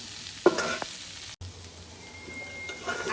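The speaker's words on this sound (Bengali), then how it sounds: "আলুটা আমার ভেজে নেওয়া হয়ে গেছে" Broken potato pieces frying in hot oil for a village-style tengra fish curry: a soft, steady sizzle with a sharp utensil clatter early on and stirring scrapes, heard up close.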